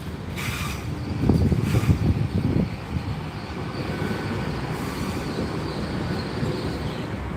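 A Class 800 train arriving at Gloucester rumbles steadily nearby, with a louder burst of clattering early on before settling into a continuous mechanical roar.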